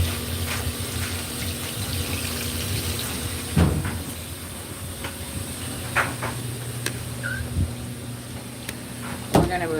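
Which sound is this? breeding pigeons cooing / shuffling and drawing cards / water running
water running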